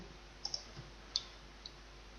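A computer mouse clicks on OK in diagnostic software, a few short sharp taps spaced across a quiet background with no speech.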